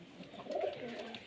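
A Giribaj pigeon gives one short, rolling coo close by in a loft, over a quiet background.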